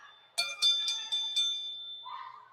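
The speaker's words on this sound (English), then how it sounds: "The bell is gone and we're underway" A wrestling ring bell rings five quick clear strikes at an independent ladies' match, the metallic ringing lingering and fading afterward, fairly close and alone.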